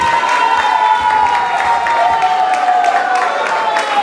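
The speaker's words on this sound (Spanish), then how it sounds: "Yo quiero que la recibamos con un gran aplauso." Loud crowd noise at an evening stage show as a performer is welcomed, a continuous roar of cheering and clapping with shouts mixed in, plus a steady tone running underneath.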